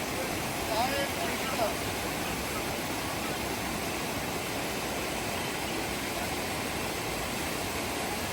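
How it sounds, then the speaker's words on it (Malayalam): Kachar waterfall in Kanthalloor, running low in summer, gives off a steady, even rush of falling water that stays constant from start to finish. "കാന്തല്ലൂരിലെ കച്ചാർ വെള്ളച്ചാട്ടമാണ്"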